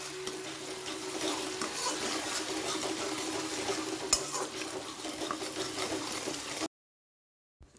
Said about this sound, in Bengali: টক দই দেওয়ার পরে ভালো করে নেড়ে চেড়ে নিচ্ছি।